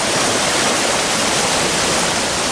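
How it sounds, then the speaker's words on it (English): Snowmelt and rain water thundering down Andean cloud-forest valleys toward the Amazon, a loud, steady broadband roar of rushing torrent with no break, close and dense throughout. "Snowmelt from the Andes and rain from the cloud forests send over 200 billion metric tons of water thundering down the valleys."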